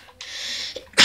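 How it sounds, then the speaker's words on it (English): A single sharp sneeze bursts out at the end, preceded by a drawn-in hissing breath, close and fairly loud. "I'm sorry, I had to sneeze"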